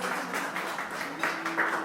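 A meeting audience applauds a guest speaker from the Conservation Foundation, a faint, steady patter of many hands clapping in a room, continuing evenly without voices over it.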